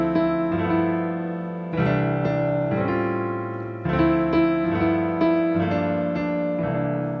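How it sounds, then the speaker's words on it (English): Jazz piano plays rootless voicing chords, rich and crunchy, struck in a few separate groups with sustained ringing between attacks, close and clear with no voices. "They are these beautiful, crunchy chords"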